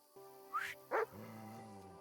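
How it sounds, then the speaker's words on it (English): A dog in Kingdom Come: Deliverance 2 gives two sharp, nearby barks in quick succession beside a tent in a camp, over a steady low in-game hum. "No one wants to hear your barking. Such a naughty dog."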